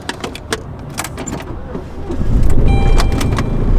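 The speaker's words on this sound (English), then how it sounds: "Please start, please start." An unreliable car on the verge of dying is started before being driven onto a trailer: keys jangle and click, then a loud, low engine rumble catches and holds steady, close by.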